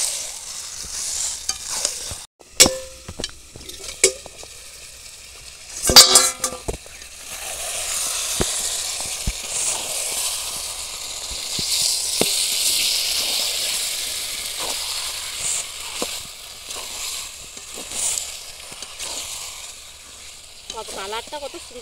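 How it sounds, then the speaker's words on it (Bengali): Chicken curry being stirred and sautéed in a pan, a soft ongoing sizzle and hiss broken by sharp scrapes and clinks of the spoon against the pan, with a few louder knocks early on. "এবার কষাবো।"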